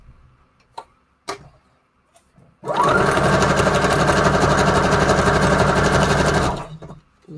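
A sewing machine stitches through a decorated junk journal page in one loud, steady run of about four seconds, with faint handling taps before it starts.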